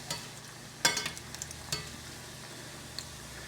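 Churros frying in hot oil turned up high, a soft continuous sizzle with a few sharper crackles and pops near the start, faint and close.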